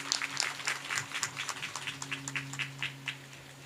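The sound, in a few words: audience applauding to welcome a guest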